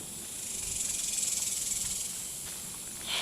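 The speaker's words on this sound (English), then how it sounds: "the cicadas are singing the little hearts out" Cicadas drone steadily on a hot Texas evening at sunset, a dense high-pitched buzz that swells and pulses slightly, fairly loud and continuous, with no talk over it.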